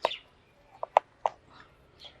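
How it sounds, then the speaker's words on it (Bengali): Birds call from trees around a rooftop, a few sharp separate chirps spaced irregularly over quiet background, fairly close and with no speech. "এই যে পাখির আওয়াজ শুনতে পাচ্ছেন আপনারা"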